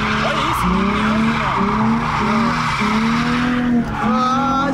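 A car drifting with the handbrake during a day of drift practice: continuous loud tire squeal that wavers in pitch through repeated slides, layered over steady engine roar close by, with a brief dip before the squeal resumes.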